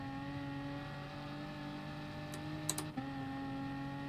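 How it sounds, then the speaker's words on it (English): A race car in Gran Turismo Sport at the Nürburgring 24-hour race holds a steady, droning engine note at high revs, with a few faint clicks near the end. "I'm revving it out just a little too much"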